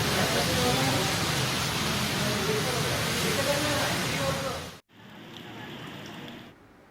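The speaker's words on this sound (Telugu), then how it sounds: "హైదరాబాద్ లో ఎడతెరిపి లేకుండా వర్షం కురుస్తోంది" Heavy, unbroken rain in Hyderabad makes a loud, even rushing hiss that cuts off abruptly, then returns as a quieter, thinner wash of falling rain.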